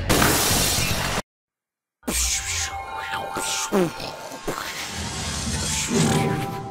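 Synthesized glass shattering in the Philips CD-i console boot-up intro, a bright crash followed by a brief silence, then glassy chimes and whooshing sweeps.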